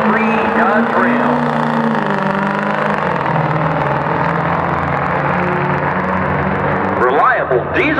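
A 2003 Dodge Ram diesel truck roars steadily through a drag race pass, its engine note loud and sustained, with an announcer talking over it.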